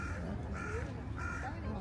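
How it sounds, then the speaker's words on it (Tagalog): Two harsh crow caws ring out in Hiroshima, Japan, spaced about a second apart, over a steady background hum with faint voices. "Uwak na naman, no?"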